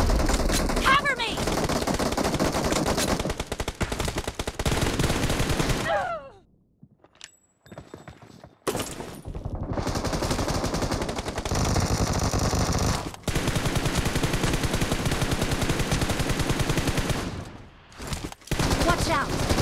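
Rapid automatic gunfire from a BGMI team deathmatch crackles in dense bursts, with a couple of short pauses between volleys and shouted voices mixed in.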